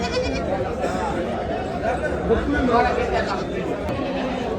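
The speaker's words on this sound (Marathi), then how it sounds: "सगळी शेळ्यांची पिल्लं आहेत बघा" Young goats bleat repeatedly in a busy pen at a large goat and sheep market, overlapping cries near and far, with people chattering in the background.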